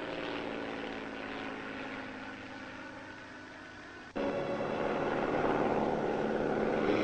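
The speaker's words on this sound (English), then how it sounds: "Here comes the plane." An approaching airplane drones steadily, then swells abruptly louder and fuller as it draws near, a continuous engine roar with no voices.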